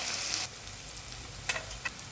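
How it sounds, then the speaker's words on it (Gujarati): Cumin, asafoetida, ginger and chillies sizzle in hot oil for a palak dal tadka, a close, steady frying crackle with a couple of brief sharp stirring clicks near the end. "અને તેલ ગરમ થાય હવે એમાં એડ કરીશું 1 ચમચી જેટલું જીરું, 1 ચમચી હિંગ"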